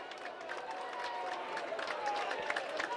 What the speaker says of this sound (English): A generous round of applause.